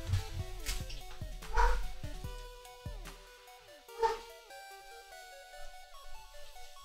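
A dog yelps and whimpers in short high-pitched bursts amid cartoonish sliding tones and effects, moderately loud and close, with no talking.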